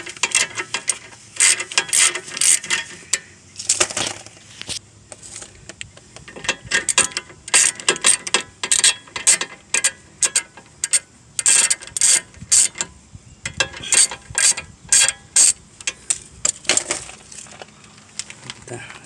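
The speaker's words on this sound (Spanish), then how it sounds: "Quitamos la tuerca." A hand ratchet works loose a nut on the control arm of a 1996 Infiniti I30, sounding as loud, close bursts of rapid metallic clicking, stroke after stroke, with brief pauses between runs.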